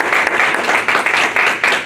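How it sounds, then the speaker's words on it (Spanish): A church congregation bursts into loud, steady applause, many hands clapping together in a dense wash of sound that swells in waves without letup through a sermon service. "Denle un aplauso a Dios."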